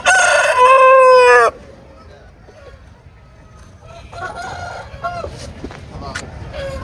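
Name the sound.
fighter roosters crowing at market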